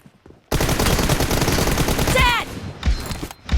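Rapid automatic gunfire from the PUBG Mobile video game, a dense continuous burst of shots that starts abruptly, then thins into a few scattered, fainter sounds.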